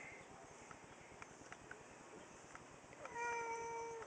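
Indoor cats make a faint meow near the end, against a quiet room with a low background hum.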